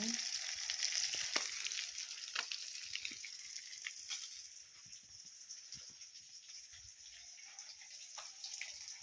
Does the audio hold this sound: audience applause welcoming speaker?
no